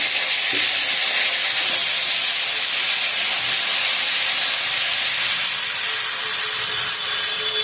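Cauliflower dropped into a hot pan of oil, right after eggs have been fried, sizzling loudly and steadily with a bright, spitting hiss that carries on without pause, close to the microphone.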